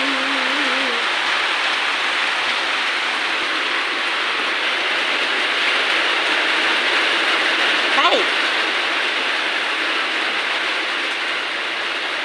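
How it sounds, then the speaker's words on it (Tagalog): Heavy rain falls outside while tikoy fries in a pan, together forming a loud, constant, even hiss throughout, with a few brief voices heard over it. "Ang lakas ng ulan."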